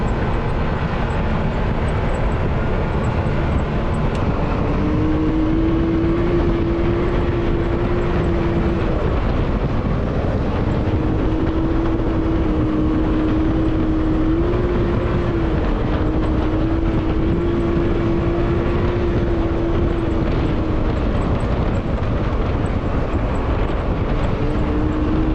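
A 2021 Can-Am X3 DS 64-inch Turbo RR two-seater side-by-side driving on the Dumont Dunes, a loud, sustained engine drone with a rising and falling tone, heard from just in front of the engine with heavy rumble and no talk.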